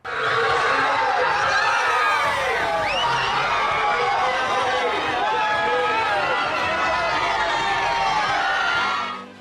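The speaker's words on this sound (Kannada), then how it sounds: "ಶಿಳ್ಳೆ ಚಪ್ಪಾಳೆ ಜೈಕಾರ" Dense, loud crowd noise at a street homecoming for Bigg Boss winner Gilli in Malavalli, Mandya: steady roaring cheers with sharp whistles cutting through, sustained throughout with no break.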